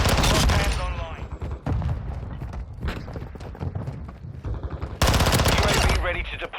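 Gunfire in Modern Warfare 2, rapid shots in bursts with sharp attacks at the start and again near the end, mixed with game sounds and a voice talking in between.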